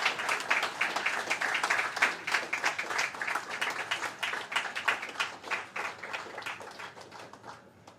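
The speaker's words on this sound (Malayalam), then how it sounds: "ഒരു നിറഞ്ഞ കയ്യടിയോടുകൂടി തന്നെ നമുക്ക് ഈ പുസ്തകം പ്രകാശനം ചെയ്യാവുന്നതാണ്" Sustained applause from an audience at a book release event, a dense, steady wash of many hands clapping with slight swells, fading a little toward the end.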